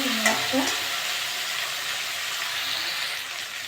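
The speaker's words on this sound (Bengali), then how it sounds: "চিংড়ি মাছ দিয়ে একটু ভেজে নেবো।" Prawns frying in a pan with onions, an even broadband sizzle throughout, with a few brief clinks of a utensil at the start.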